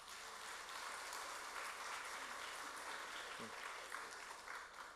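A congregation claps together in a steady, dense patter during a Sunday church service, with voices faintly mixed under the applause.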